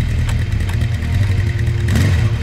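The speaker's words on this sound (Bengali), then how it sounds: "মাঝরাতে নিচের বারান্দা থেকে হঠাৎ হঠাৎ ইঞ্জিনের শব্দ শোনা যায়।" A steady motorbike engine rumbles throughout, a continuous low drone with a slight rise near the end, close and fairly loud, no voices.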